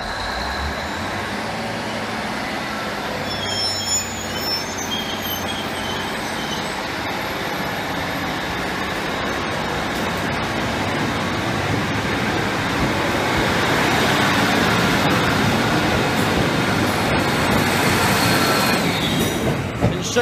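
An East Midlands Trains train departs Lincoln Central, giving a steady, continuous rumble of wheels on rail that swells slightly toward the end, with occasional faint high squeals.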